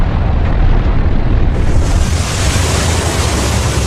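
Ocean waves crash continuously against a hard Hawaiian lava coast, a loud, steady roar of surf with wind buffeting, swelling brighter and fuller about halfway through.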